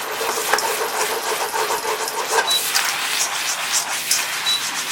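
Shrimp stir-frying in a pan for a keto stir fry, a continuous mid-to-high sizzling hiss with light scraping and tossing noises, moderately loud and close, without speech.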